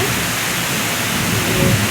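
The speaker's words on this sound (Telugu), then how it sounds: "ఇవాళైతే బాగా ఎక్కువగా ఉందండి వర్షం" Heavy rain pouring over a flooded garden plot, a loud, dense, continuous hiss filling the whole stretch without letup.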